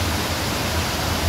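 A forceful waterfall roars in a steady, loud, unbroken rush of white water heard up close, with no voices.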